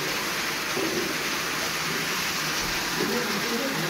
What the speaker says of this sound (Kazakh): Аймақта 2 тәуліктен бері жаңбыр толастамай тұр.